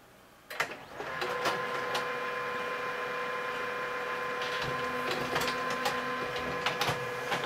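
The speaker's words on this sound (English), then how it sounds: "the printer is doing its thing, printing a page for me." An HP printer printing a test page on a Windows 10 setup: a mechanical whir starts after a short pause, then a steady feed-and-print drone with a few clicks and ticks, heard up close and alone.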